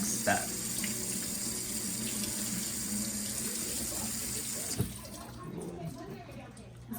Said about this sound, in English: we're just giving them a little rinse to prepare them for the next step